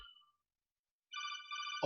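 A mobile phone rings from an unknown New Jersey number, a short tone first, then a bright repeating electronic ringtone after a silent gap, cut off by a sudden loud exclamation.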